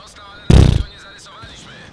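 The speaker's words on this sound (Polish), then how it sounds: "dwa strzały oddałem celnym" A single loud tank cannon shot in the video game World of Tanks, a sharp broadband blast that dies away within half a second, with faint game ambience before and after.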